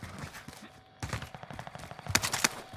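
Gunfire in Call of Duty: Modern Warfare, bursts of rapid shots at moderate distance, with a quieter start and louder clusters near the end, with no one talking.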